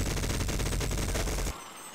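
Rapid Uzi fire in the game Sven Co-op, a loud continuous rattling burst lasting about a second and a half before cutting off abruptly.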